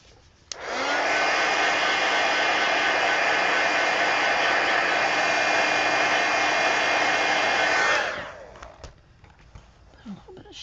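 A heat tool or hair dryer switches on with a sharp click and blows a steady, loud whooshing roar for about seven seconds while drying a mixed media planner insert, then winds down, followed by faint handling noises.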